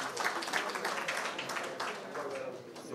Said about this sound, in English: Please give big round of applause to the award winners.